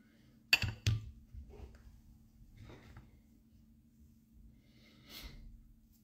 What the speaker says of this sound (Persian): حالا هی دماغمون رو میکشیم بالا.